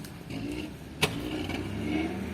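A Volvo FH13 460 truck with an automatic gearbox, imported from Spain and parked at a used-truck market in Bishkek, runs with a steady, moderate low engine drone and one sharp click partway through.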